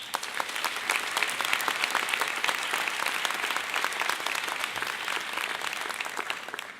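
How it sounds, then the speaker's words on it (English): Dense, steady applause from an audience at an academic convocation, sustained at even strength for about seven seconds with no talking over it. "Can we give them a big round of applause?"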